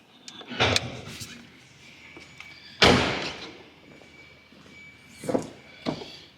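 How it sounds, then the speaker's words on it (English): A Porsche 911 GT3 997.2 door bumping against a ramp, a few separate hollow thuds and knocks with one sharper loud impact near the middle, echoing in a quiet garage. "I want to smash my door into the ramp"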